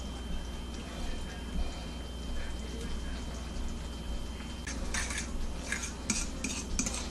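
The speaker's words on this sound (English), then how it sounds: "So you stir the rice up, then you want to add the rest of the pasta sauce." Rice being stirred together with pasta sauce in a pot for a stuffed pepper casserole, heard as soft repeated scraping and light utensil clinks against the pot, with a run of sharper clicks toward the end over a low steady hum.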